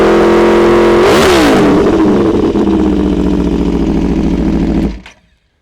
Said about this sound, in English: that doesn't sound like a MotoGP bike